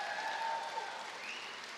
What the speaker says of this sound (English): please give another round of applause to the award-winning Alta High Ballroom Dance